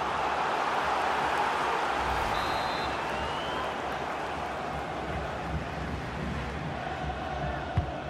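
A stadium crowd in FIFA 20, during an Austrian Bundesliga match between Altach and RB Salzburg, roars and murmurs as a steady, distant wash of noise with faint commentary above it.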